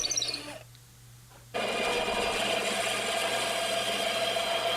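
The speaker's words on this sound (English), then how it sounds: "Start by drilling straight in so that the tip of the drill bit has something to grab onto" A drill bit bores into wood during a custom guitar build, with a brief spin-up, a short pause, then a steady sustained whir running to the end.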